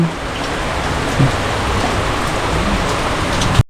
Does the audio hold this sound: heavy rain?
yes